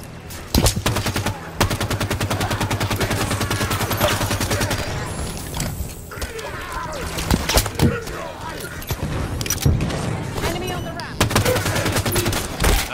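Rapid automatic gunfire from the Halo 5: Guardians video game, loud sustained bursts with brief pauses between volleys, mixed with game noise and occasional shouted voices.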